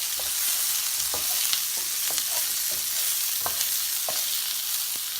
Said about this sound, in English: I'll come in and I'll give them a little stir every once in a while.